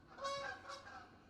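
Geese give two loud, nasal honks in quick succession, close and clear, followed by a softer trailing call, with no talking.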